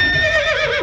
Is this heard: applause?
no